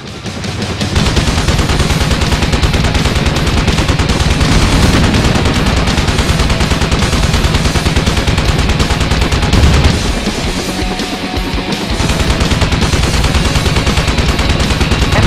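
Dense, continuous gunfire and explosions from the helicopter combat video game Thunder Wolves roar loud and unbroken for the whole span, with rapid machine-gun bursts layered over heavy blasts.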